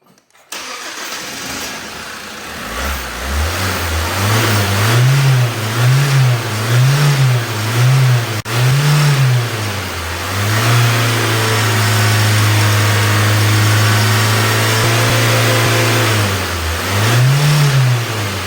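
A car engine revved hard several times in a row after a fuel filter replacement, rising and falling in rhythmic bursts and then holding a higher steady pitch, loud and close with no talk.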